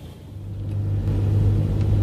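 A Renault Laguna 2 with an oil leak on its turbocharger oil line runs up close with a steady low engine hum, which swells slightly louder and holds as the car begins to move off, with no talk.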